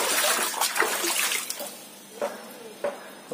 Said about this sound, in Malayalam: ഇതിനകത്തുനിന്ന് തന്നെ കുറെ വെള്ളം ഇതിനകത്തോട്ട് കോരി ഒഴിച്ച്